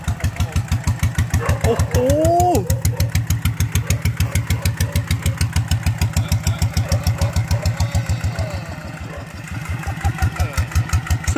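A motorcycle running on B7 diesel and styled like a Harley pulls away in second gear, its loud, rapid, even thumping close by, with a brief exclaiming voice over it and a slight dip in the beat near the end.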